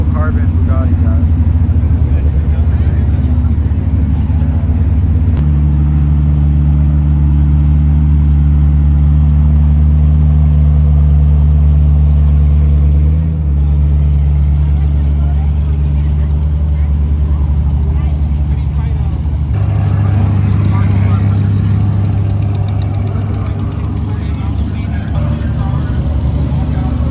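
Full carbon Bugatti hypercar at a street car meet, its engine holding a loud steady low drone that swells near the end, with people talking over it throughout.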